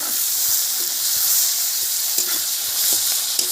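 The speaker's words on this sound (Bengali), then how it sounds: "এটা এখন দুটো পেঁয়াজ দিয়ে দিচ্ছি তেলের মধ্যে।" Two thinly sliced onions sizzle in hot oil tempered with nigella seeds for a mustard snakehead fish curry, giving a steady loud hiss with faint clicks of stirring and no talk.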